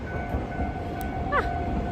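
A train rumbles along railway tracks near a new countryside station in Japan, a low continuous rolling noise with a brief squeal partway through.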